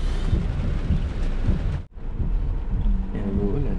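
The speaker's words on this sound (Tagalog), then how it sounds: "Yan, umuulan." Steady rain falls at a construction site in the Philippines, a dense continuous hiss with a brief dip midway, and a voice speaks faintly beneath it.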